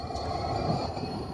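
A freight train rumbles past at close range, led by an EMD SD60 diesel locomotive working with a yard crew, a steady heavy roll of rail noise with a faint wheel squeal and no talking.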